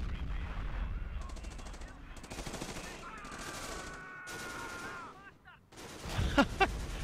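Bursts of Bren machine gun fire from the Company of Heroes game, with rapid crackling volleys spread through a busy battle mix of other game sounds and tones.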